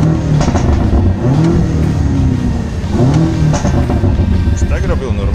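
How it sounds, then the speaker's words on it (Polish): A BMW M5 Competition with a faulty-sounding exhaust revs hard, its engine note rising and falling in loud, close bursts with crackling pops, while someone speaks over it. "Wydech w tym moim BMW też jest jakiś popsuty, bo wydaje takie dziwne odgłosy i jakiś strzela tak."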